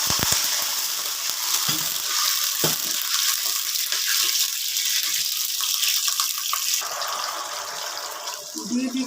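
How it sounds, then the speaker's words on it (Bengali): Water poured into a pot of sour lentil dal tempered with five-spice seeds, setting off a loud, steady hissing sizzle that runs throughout and eases slightly near the end, with no talking. "দিয়ে দিচ্ছি সামান্য একটু জল।"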